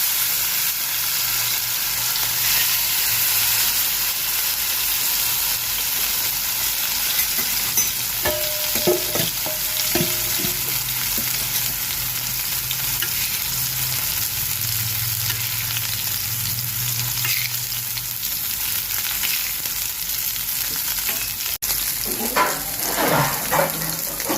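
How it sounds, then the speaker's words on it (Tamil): Masala-coated vanjiram (seer fish) pieces frying in hot oil, a steady loud crackling sizzle that runs on without a break, with faint clinks and scrapes of handling near the end. "எண்ணெய் நல்லா ஹீட் ஆகிட்டு நம்ம மீனை ரெடி பண்ணி வச்சுருந்தோம்ல அதை போட்டு பொறிச்சு விட்டுருக்கு"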